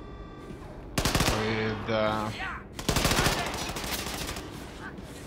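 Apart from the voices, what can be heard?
gunfire in video game Wolfenstein II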